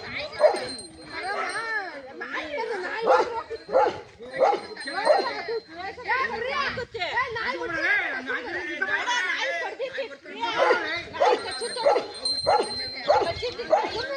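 A pet dog barks and yelps close by in rapid, irregular bursts while fighting a cobra in Davanagere, with whining high notes and some chattering voices mixed in.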